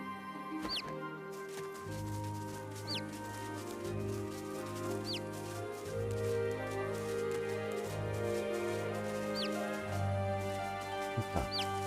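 Soft repeated clucks and chirps from a rooster in the video game Divinity: Original Sin 2 over a steady layer of game music, several short calls spaced through the clip.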